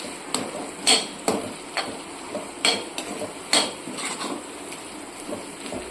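A spoon scrapes and clatters against a pan while squid masala is stirred and mixed, giving a series of sharp, close metallic knocks and scrapes at an uneven rhythm over a soft sizzle.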